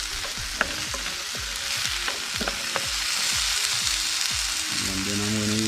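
Okra sizzles steadily in a hot pan at an outdoor riverside cook, with a constant frying hiss and a few soft stirring clicks close by.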